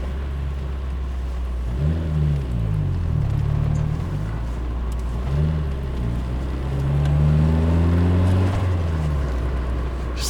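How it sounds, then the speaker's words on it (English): A Nissan 180SX Sileighty engine idles with a low, constant rumble, its pitch rising and falling slightly in a few gentle revs. "Just listening to the engine though"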